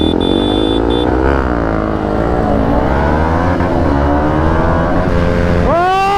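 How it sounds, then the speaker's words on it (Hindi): Five motorcycles, a Yamaha R15M, KTM Duke 200, Yamaha MT-15, Yamaha XSR-155 and Bajaj NS200, launch together in a drag race. Their loud engines rev and climb through the gears, overlapping in dense harmonic layers, with one rising sharply near the end. "Time to first attempt of our drag race."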